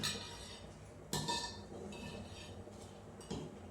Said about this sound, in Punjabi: ਮੈਂ ਉਧਰ ਭਾਂਡੇ ਮਾਂਜਣ ਲੱਗੀ ਸੀ ਜਿਹੜੇ ਪਏ ਸੀ ਆਪਣੇ